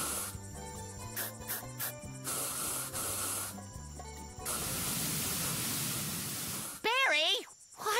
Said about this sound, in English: Barry, watch where you're spraying.